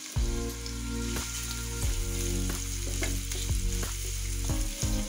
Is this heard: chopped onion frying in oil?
yes